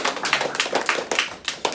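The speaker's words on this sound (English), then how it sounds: "give yourselves a round of applause" Audience at a live business event clapping, a dense run of hand claps in uneven bursts filling the short stretch, fairly close and moderately loud with no talk over it.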